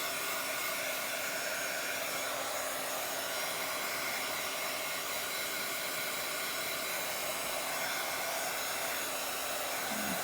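A hair dryer blows steadily on a wet journal page, a constant loud whooshing hiss that runs unbroken from start to finish.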